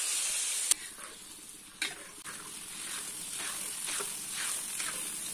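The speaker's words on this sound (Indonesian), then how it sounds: "langsung saya menumis bumbu yang sudah saya haluskan di blender" Blended spice paste sautéing in oil in a wok, a steady close sizzle and hiss with a few sharp stirring clinks and scrapes, no talking.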